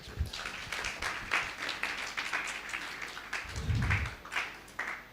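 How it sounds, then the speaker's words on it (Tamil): Church congregation at a vacation Bible school program gives a big round of applause, fairly faint and scattered clapping lasting several seconds with a low thump partway through. "ஒரு பெரிய கைத்தட்டு"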